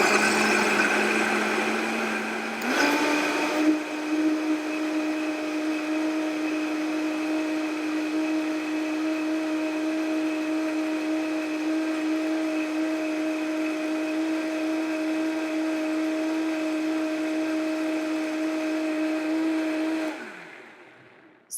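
A countertop blender running on high churns cashews and water into milk, a loud steady motor whine that jumps in pitch after a few seconds, holds constant, then winds down at the end.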